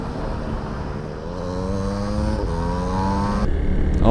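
Kawasaki W175 motorcycle engine revving through its gears while riding, revs climbing and dropping at each shift, loud and close with wind noise, no talk.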